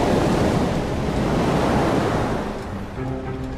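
Ocean waves and wind make a loud, continuous rushing surf with buffeting gusts, heard alone at sea with no voices.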